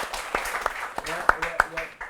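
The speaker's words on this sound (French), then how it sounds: "Monsieur Satina, on l'applaudit encore, Monsieur Satina." A comedy show audience applauds a comedian, a short burst of scattered clapping with a few sharp, close claps, mixed with talk from a host.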